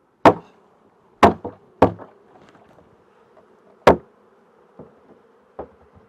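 Honeybees give a steady low buzz while hive frames are shaken, and several sharp knocks from the frames striking the box cut through it at uneven intervals.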